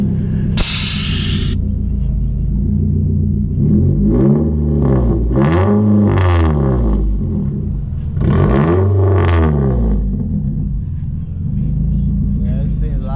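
A tuned Nissan Maxima with quad exhaust pipes and air suspension starts up and revs loudly close by in two big sweeping pulls, a deep rumbling idle between them, with a brief hiss at the start and people talking over it.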